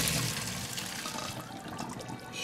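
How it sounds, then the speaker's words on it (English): Water from cooked macaroni pours through a strainer into a kitchen sink, a steady rushing splash that holds loud and even from start to finish with no voices. "Strain the water out of it."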